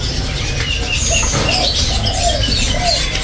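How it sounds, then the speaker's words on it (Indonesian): Babbler bird calls over a steady noisy background, short chirps and warbling notes repeating at moderate distance. "Ada juga burung pelanduk semak ya."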